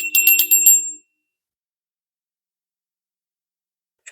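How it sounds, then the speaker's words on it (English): A small bell rings in a quick cluster of bright metallic strikes for about a second, then silence follows, with one faint short tap near the end. "Ring the bell"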